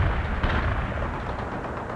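Continuous dense battlefield gunfire and explosive rumble from the video game World in Conflict, a loud sustained roar of overlapping shots and blasts with no clear gaps.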